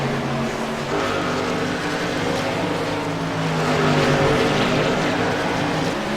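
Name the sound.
race truck engines on livestream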